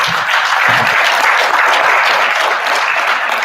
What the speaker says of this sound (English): Can we give them a very huge round of applause?